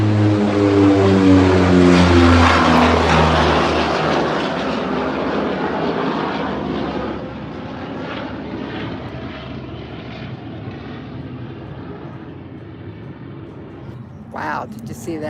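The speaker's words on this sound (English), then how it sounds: "I went and was at a cargo plane. That was a big one." A large cargo plane passes low overhead, its roaring engines loud at first and then fading as it moves away, ending in a brief rustle.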